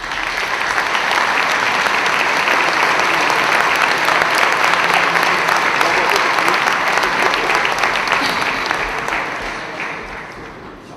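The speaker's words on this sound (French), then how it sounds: "Vous méritez une bonne main d'applaudissement pour le travail accompli dans la dernière année." A large crowd at a credit union's annual general meeting gives loud, sustained applause, with a dense wall of clapping that holds steady and then tapers off toward the end.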